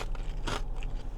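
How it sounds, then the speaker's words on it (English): Fried wonton chips crunched while eating poke, a dense crackling bite that bursts loud midway through over a steady low background hum. "The soft fish and the crunch of the wonton chips."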